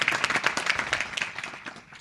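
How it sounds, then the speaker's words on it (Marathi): An audience at a kirtan claps for a pakhawaj player in a short burst of scattered, fairly close applause that thins out and fades over two seconds. "या पकवाज वादकासाठी एकदा जोरदार टाळ्या वाजवा"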